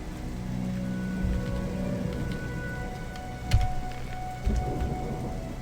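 Steady rain with a low rumble of thunder in the video game Gothic 1 (mod 1.08k), a constant wash of falling drops with a couple of brief dull thuds near the end, no voices.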